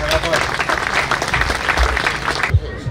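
Audience applause at a Hellenic Navy band concert in Katakolo, a dense, steady clapping that stops abruptly near the end, with a voice briefly audible under it.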